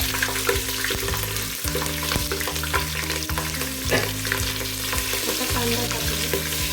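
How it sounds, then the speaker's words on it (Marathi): Chillies hit hot oil in a pan for pulao and set off a steady, dense sizzle that runs the whole time. Spoon scrapes and stirring clinks sound over it now and then, and no one speaks. "त्यानंतर मिरची टाकणार आहोत."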